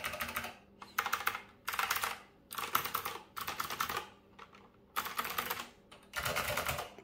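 A mechanical keyboard types with deep, thocky keystrokes, heard in rapid bursts of clicking separated by short pauses, close and crisp with no talking.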